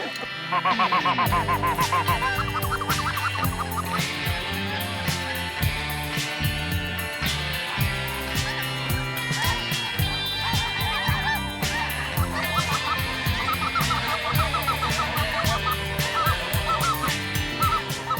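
A large flock of snow geese honks continuously during a late-season goose hunt in Kansas, many overlapping high calls from nearby birds forming a steady clamor throughout.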